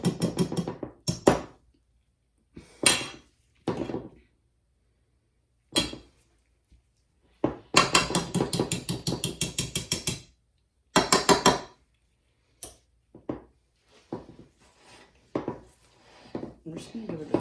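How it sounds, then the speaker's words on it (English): A utensil clinks and scrapes against a bowl in short, irregular bursts while cranberry seeds are stirred into soap base, with rapid rhythmic tapping around the middle and silent gaps between. "I'm just going to give it a stir to make sure those seeds are all mixed in there nice"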